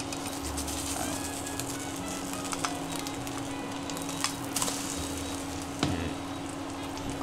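Rice topped with raw egg frying in a pan, a soft continuous sizzle with occasional spatula scrapes and taps, a faint steady hum running beneath.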